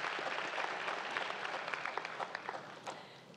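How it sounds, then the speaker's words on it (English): An audience at a Bowie State University Founders Day ceremony gives a round of applause, steady dense clapping that sounds fairly distant and soft, thinning slightly toward the end. "please give him another round of applause"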